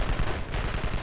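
Sentry guns in the Evil Genius video game firing continuously, loud, rapid rattling bursts of automatic gunfire with a steady pulsing rhythm, close and unbroken by talk.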